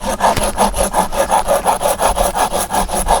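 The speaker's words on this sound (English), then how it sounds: "that change in noise is telling me that I'm nearly cut right the way through the piece of wood here" A folding saw is nearly through a piece of wood, rasping in quick, even back-and-forth strokes, close and loud, with no talking.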